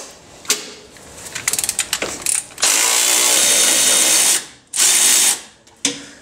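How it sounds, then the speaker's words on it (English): Power tool loosening the bolt that holds the bracket to an engine mount on a 1996-2000 Honda Civic: quick ratcheting bursts, then a loud sustained whir that cuts off, restarts briefly, and ends with a short final burst, close by. "we're gonna want to loosen the actual bolt holding the bracket to the mount"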